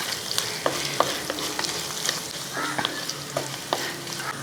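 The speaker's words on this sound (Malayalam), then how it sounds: "ഇനി ഇതിൻ്റെ അകത്തോട്ട് നമുക്ക് കുറച്ച് തേങ്ങ ഇതുപോലെ ചെറുതായിട്ടൊന്ന് അരിഞ്ഞ് വെച്ചിരിക്കുന്ന ഇത് തേങ്ങാക്കൊത്തിരി ഇട്ട് കൊടുക്കുകയാണ്" Chopped coconut pieces fry with mustard seeds and dried chillies for a Kerala-style beef curry, sizzling steadily while a spoon scrapes and clatters through them in quick stirring strokes, close up with no talking.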